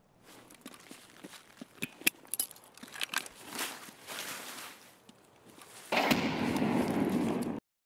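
An explosion in Escape from Tarkov on the Customs map: scattered pops and thuds lead into a sudden loud blast that fills the last couple of seconds with a dense, sustained roar.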